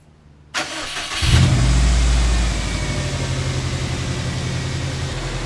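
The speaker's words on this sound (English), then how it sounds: "We're gonna give it a first start up here." A Subaru WRX engine, just fitted with a new PCV valve, cranks briefly and catches, revs up loudly for a moment, then settles into a steady, close idle.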